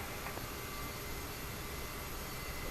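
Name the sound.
airplane taking off, VATSim flight simulator video game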